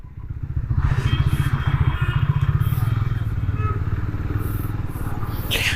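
A Triumph Scrambler 400X with a 400cc engine accelerates on a ride, giving a throbbing, pulsing exhaust note that builds up and then holds steady close by, with wind noise and a rider talking over it.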